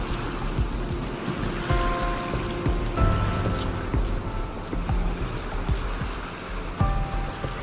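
Ocean surf washes onto a beach in a steady, close wash of breaking waves and foam, with a rushing, hissing texture throughout and no voices.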